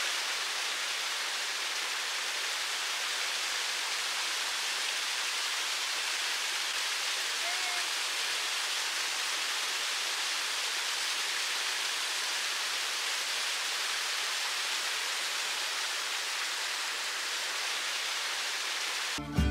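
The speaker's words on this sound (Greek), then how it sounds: "Αυτός εδώ είναι ο καταράκτης Τσατσίν" Chachin waterfall in a Patagonian national park roars as a steady, dense broadband rush of falling water, constant and fairly close, with no talking audible.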